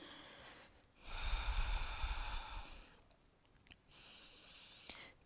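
During a held vinyasa yoga posture, slow audible breathing drifts in near the microphone: a long airy exhale-like rush, a quieter pause, then a second softer breath with a few small clicks.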